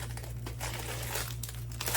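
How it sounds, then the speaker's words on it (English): Paper stuffing pulled from a small purse with a gray microfiber lining, giving close, continuous crinkling and tearing rustles over a low background hum. "Let me get all the stuffing out of here so we can see"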